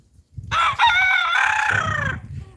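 A rooster lets out one long, loud crow close by, rising and then trailing off, with faint clucking underneath.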